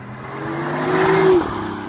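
A Tesla Model 3's exterior speaker plays a simulated engine hum. The steady tone swells and rises in pitch, then cuts off abruptly near the end, with faint road noise underneath.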